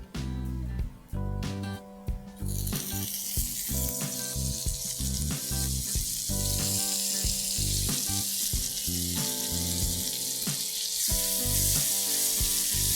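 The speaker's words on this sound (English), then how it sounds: "Let's heat up butter first." Butter heats in a pan and breaks into a loud, steady sizzle and crackle that builds after a few seconds of clatter and holds dense and close to the end.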